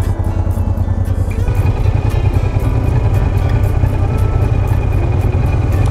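A motorcycle engine runs loudly and steadily up close, with a fast, even ticking tap riding over the low rumble throughout.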